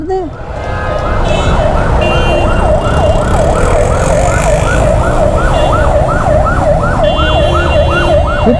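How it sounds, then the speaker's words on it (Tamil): Ambulance siren wailing loudly and close in a busy street, a steady repeating up-and-down electronic tone over heavy traffic rumble for several seconds. "எப்படிப்பா அதுக்குள்ளே ஆம்புலன்ஸ் வந்துச்சு?"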